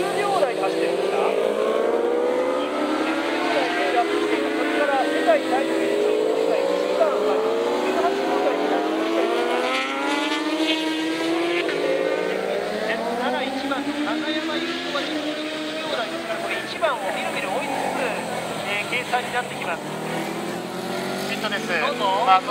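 Racing motorcycles scream past at the 2013 Suzuka 8 Hours endurance race, high engines rising and falling in pitch as bikes sweep by one after another, with a commentator talking throughout.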